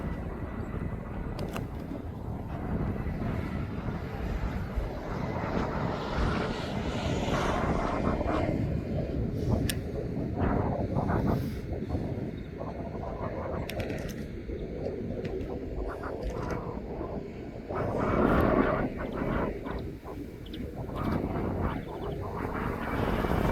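Aer Lingus airliner at East Midlands Airport, a steady broadband engine roar that swells and fades over about twenty seconds, continuous and fairly loud, with a brief surge near the end.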